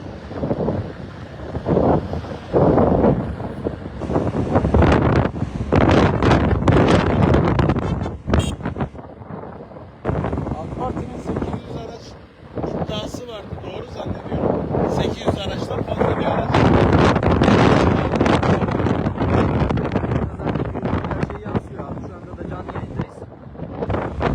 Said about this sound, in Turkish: Havada çok büyük rüzgarlar var